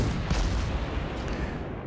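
Ship artillery in World of Warships during a battle involving the cruiser St. Louis, heard as a dense, rumbling barrage of booming shots layered close together.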